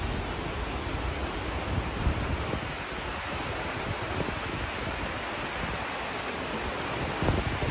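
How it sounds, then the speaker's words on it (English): Triple Falls, a waterfall where three creeks meet beneath a graffiti-covered spot, roars as a constant broad rush of falling water, steady and close with no voices. "We got Triple Falls right here."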